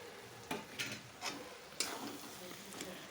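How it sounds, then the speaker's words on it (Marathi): Stuffed eggplants are turned in hot masala in a pan, giving a faint, low sizzle broken by several sharp scrapes and clinks of a stirring spoon at an uneven rhythm. "इथे आपला मसाला मस्त गरम आहे, त्यामध्येच मी आता ही वांगी टाकून परतवून घेणार आहे"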